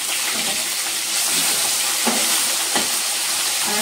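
Tilapia fish frying in hot oil, a steady close sizzle and crackle with a few sharper spatters, no voices.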